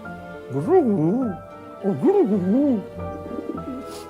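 Pigeons coo in low, rolling, throaty phrases, two main bursts with a softer one after, close by and otherwise quiet.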